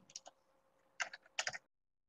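Someone types a folder name on a computer keyboard, a few quick clusters of close, crisp key clicks with short pauses between them, in a quiet room.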